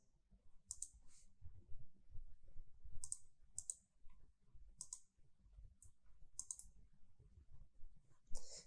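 Crisp, quiet computer mouse clicks sound in irregular singles and doubles near the microphone, with faint desk handling noise between them and no speech.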